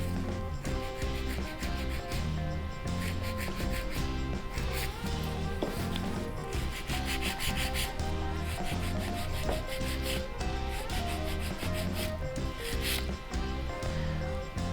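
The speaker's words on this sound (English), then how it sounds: "I am filing on the side for make my nail straight. It's not so easy to file it plastic finger." A file rasps rhythmically along the side of a poly gel nail on a plastic practice finger, quick even back-and-forth strokes heard up close and fairly quiet, with no talking.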